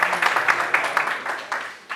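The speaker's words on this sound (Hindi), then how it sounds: "उनके लिए तालियां" A seated audience at an oath-taking ceremony claps for a guest who stands up, giving a brief, dense burst of applause that rises and falls in waves.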